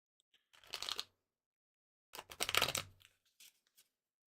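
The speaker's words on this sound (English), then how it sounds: "One more shuffle out of this will be good." A deck of playing cards shuffled close by, two rapid riffling bursts separated by a pause, followed by a few faint taps.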